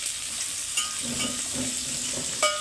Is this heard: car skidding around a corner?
no